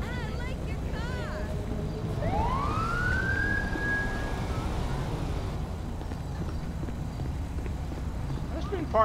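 A police siren sweeps up in a single rising wail within the video game Grand Theft Auto V, set against constant low engine and traffic rumble, with brief speech at the start and end.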